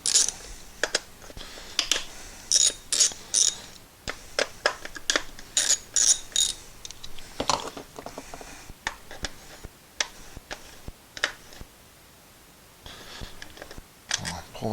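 A ratchet loosens 10mm bolts on the ignition coils of a 10th-generation Honda Civic, giving bursts of quick, close clicking with pauses between turns.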